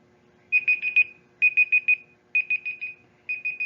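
Four bursts of rapid electronic beeping from a countdown timer sound when a quiz's 15 seconds run out, each burst a quick run of bright chirps with short gaps between them, loud and clear with no talk.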